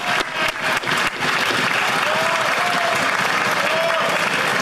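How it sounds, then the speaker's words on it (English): Members of the Canadian House of Commons applaud and cheer during Question Period as the Prime Minister gets a standing ovation; a few sharp claps open into a continuous, loud roar of clapping and voices. "The Prime Minister's getting a standing ovation."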